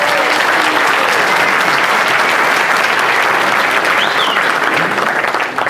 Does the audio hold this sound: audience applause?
yes